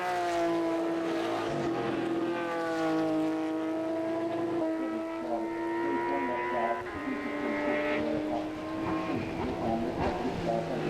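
Porsche 997.2 race cars lapping a raceway circuit, engines holding a steady high drone with gear shifts and pitch changes as they pass, heard under continuous race commentary.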